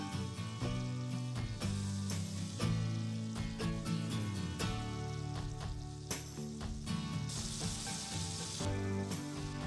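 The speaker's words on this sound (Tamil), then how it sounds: "கறி ஃப்ரை ஆகிட்டு இருக்கும்போதே கொஞ்சம் கொஞ்சமாக பட்டரை ஆட் பண்ணிக்கோங்க." Large pieces of beef frying in butter in a pan for an onion beef fry, a steady close sizzle running throughout with faint stirring and scraping, loud against no speech.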